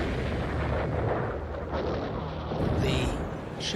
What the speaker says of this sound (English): Prien fires several torpedoes at the Royal Oak while she's still at her mooring.